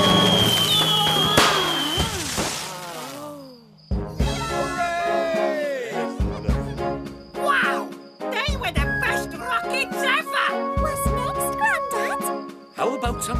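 Roman candle fireworks in a seaside cartoon fizz, whistle and pop in a string of bursts, with crackling sparkles and rising whistles over a musical score, and a voice briefly heard.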